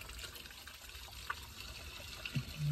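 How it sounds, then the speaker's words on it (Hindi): Water is poured out of a dog washing tub during a first-time dog grooming, heard as a soft trickling, splashing flow with a few small clinks and a louder gush at the end. "तो एक बार इस पानी को निकाल लेते हैं।"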